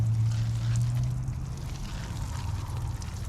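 Water pours onto newly planted plants in a fall garden bed, a steady soft rushing splash near the ground, with a low hum fading early and no talking.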